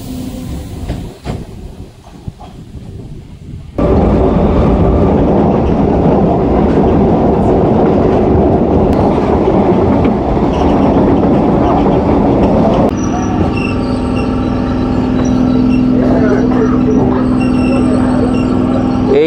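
A passenger train on the Kolkata–Bakkhali line runs on the rails near Kakdwip on a foggy night. It starts with a quieter stretch, then a loud, continuous rattle and rumble of wheels with clickety-clack, and a voice speaks over part of it.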